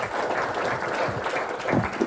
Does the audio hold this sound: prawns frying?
no